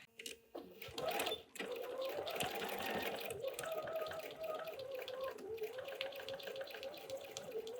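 A sewing machine stitches down the binding on a folded star quilted table topper, a close motorised whir that starts after a couple of short bursts and runs steadily to the end, with faint talk underneath.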